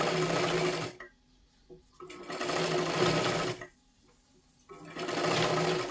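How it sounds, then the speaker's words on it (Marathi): Sewing machine stitching a double seam on a blouse, running in three loud steady bursts separated by brief pauses, close up. "आता ह्याच्यावरती पुन्हा एकदा एक डबल शिलाई मारून घ्यायची आहे."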